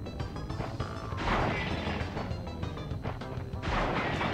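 A boss fires shots in the video game Crash Bandicoot 3: Warped, heard as loud, repeated crashing booms and impacts over busy game music and effects.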